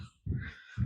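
Two loud, harsh caws from crows on a farm, close by, separated by a brief pause.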